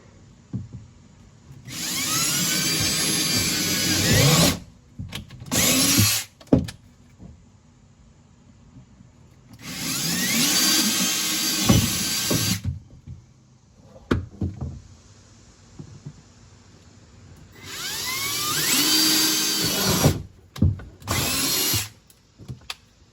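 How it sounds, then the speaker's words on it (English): A power drill with a 3/8 bit whirs in three long bursts drilling holes in a 2020 Honda Pioneer 700-4, separated by pauses, with knocks and clatter of handling between runs; loud and close, no talking. "We're gonna drill out these holes we just marked."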